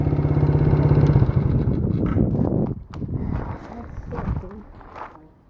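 A tiny quad ATV's small engine runs loud and close under light throttle, a steady buzzing drone that holds for a couple of seconds before falling away, then rising and dipping again toward the end.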